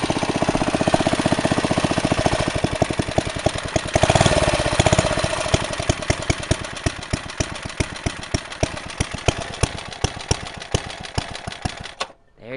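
A small engine on an older minibike idles with a steady, rapid chugging pulse close by, running alone for about twelve seconds before cutting out abruptly at the end.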